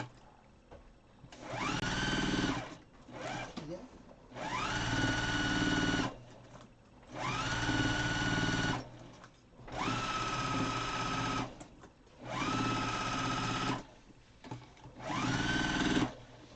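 A sewing machine stitches a star quilt in about six bursts of a few seconds each, separated by short pauses, close and fairly loud, with faint background sounds in the gaps.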